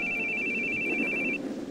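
A telephone rings in a video game, a steady electronic ring tone that holds for over a second and then cuts off, with a faint background hum.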